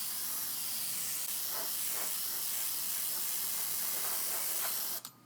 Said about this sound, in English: I oversprayed the mat here.